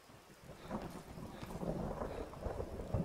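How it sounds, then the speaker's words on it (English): A night thunderstorm in the video game Skyrim: a steady wash of rain with low, rolling thunder rumbles that swell and fade, quiet and distant throughout. "a nice little thunderstorm as well"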